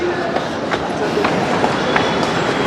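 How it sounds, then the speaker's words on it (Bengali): A Kolkata metro train running underground between Sealdah and Howrah, with a steady loud rumble and rhythmic clacking of wheels on the rails throughout. "এখন মেট্রোতে চলে এসেছি"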